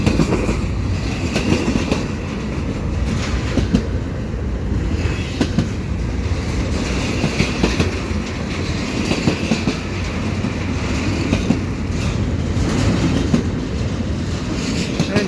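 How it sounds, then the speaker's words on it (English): CP mixed freight train of empty cars rolling around a sweeping curve at Valois Station, Canada: steady close, loud rumble with rhythmic clickety-clack of wheels over rail joints throughout, no voices. "you'll see this train sweep around the curve here at Valois Station"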